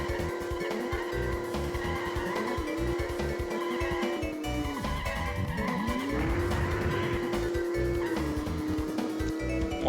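Race cars lapping in the video game Road Trip Adventure, a steady droning engine with pitch sweeps as the cars corner, plus squealing tires, all under game music at a moderate level.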